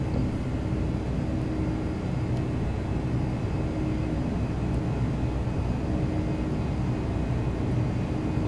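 A Boeing 757-200 jet climbs after takeoff in Flight Simulator X, its engines holding a steady, dense roar with a constant whine throughout and no break in the noise.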